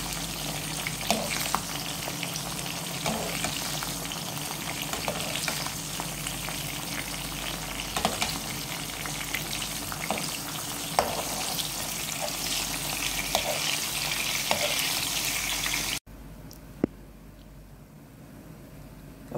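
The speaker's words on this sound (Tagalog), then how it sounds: "Ganito ako nagpuprito ng itlog." Eggs fry in a pan with a continuous crackling sizzle and scattered pops, close and steady, then cut off abruptly to a quieter background with a single click.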